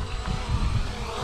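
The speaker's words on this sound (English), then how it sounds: "I'll push the land button and it's landing itself right there" A JJRC X5 GPS drone landing itself, giving a steady close rotor whir and low rumble that holds evenly through the short moment with no voices.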